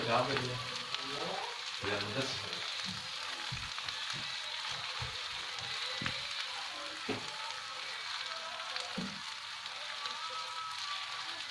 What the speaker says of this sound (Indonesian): Tumis bumbunya sampai benar-benar mateng banget, sampai ngeluarin minyak